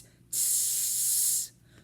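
A voice imitates a snake's hiss as a rhythm sizzle, giving a single sustained, bright hiss lasting just over a second and cutting off sharply, close and alone.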